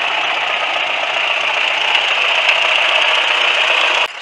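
A farm tractor with a 3-point hitch and chains runs steadily in second gear, low range, giving a loud, continuous engine drone with a mechanical rattle that cuts off abruptly near the end.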